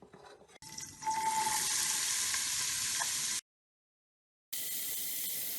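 Onion, garlic and ginger frying in melted coconut oil in a soup pot give a loud, steady sizzle that cuts off abruptly partway through, goes silent, then comes back just as loud.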